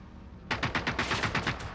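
Enemy robot gunfire in Generation Zero opens abruptly as a rapid automatic burst of about ten evenly spaced shots, loud and close, with no voices over it.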